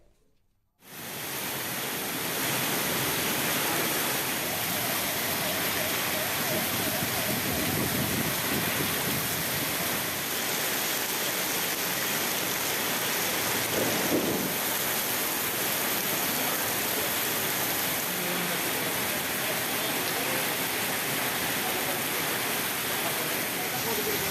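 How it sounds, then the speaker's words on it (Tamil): Heavy summer rain pours steadily near Attaiyampalayam, a dense continuous roar of falling water that fills the whole stretch with only a faint low rumble partway through; no distinct thunderclap stands out. "இடியுடன் கூடிய கனமழை பெய்தது"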